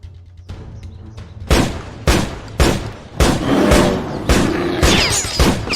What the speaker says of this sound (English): Are you going to shoot the bear?